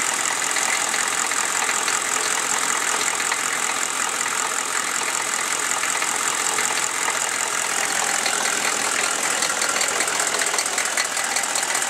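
A Chevy 6.5L diesel engine idles steadily and up close, a dense continuous rumble with a fast ticking valve clatter running throughout, heard alone with no voices.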